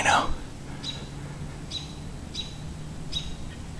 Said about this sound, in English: Mr. Robin is not pleased with Mr. Owl hanging out in his turf.